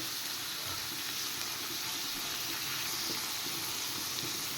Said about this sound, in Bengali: ক্যাপসিকামগুলো একটু নুন দিয়ে ভেজে নেব